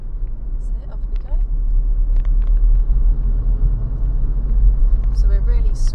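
Car accelerating out of a bend on a rural road, a steady low engine rumble and road roar from inside the cabin that builds slightly, with a few faint brief clicks and tones over it.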